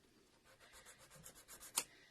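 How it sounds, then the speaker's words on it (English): Soft, rhythmic rubbing strokes of sandpaper on a paper edge, faint and close, ending with a sharper scrape. "Let's give this one a sand."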